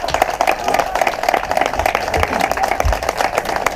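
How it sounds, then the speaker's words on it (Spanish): Audience applause at a live music show, a dense continuous wash of many hands clapping at steady loudness, with a few low thumps underneath and no clear talk. "un aplauso grande para todos ellos"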